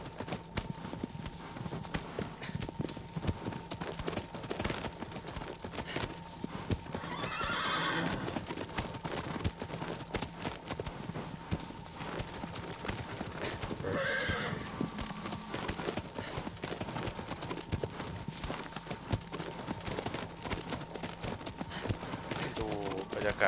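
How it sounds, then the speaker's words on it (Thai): A horse in the video game Shadow of the Colossus gallops with a steady, rapid clip-clop of hooves throughout, with two brief whinnies along the way. "เกมนี้มันเบื่อขี่ม้าสัตว์อ่ะ"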